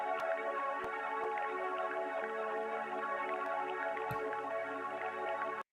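A single sustained guitar note drones steadily, looped in Ableton, layered and shimmering, holding at an even, quiet level before cutting off at the end.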